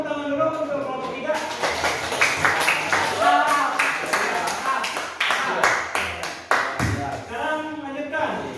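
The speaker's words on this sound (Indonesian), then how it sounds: "Kita tepuk tangan dulu untuk kelompok 3." A classroom of vocational school students claps for a group that has just presented, a quick run of brisk claps from a few people nearby while a teacher keeps talking.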